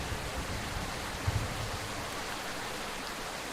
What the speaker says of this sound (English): Bro, how loud is that fucking rain?